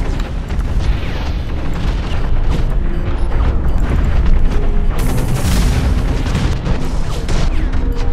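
Loud, dense explosion in the mech combat game Hawken, a grenade blast booming amid continuous battle noise, with a sharp burst around the middle swelling over rumbling gunfire and mechanical clatter.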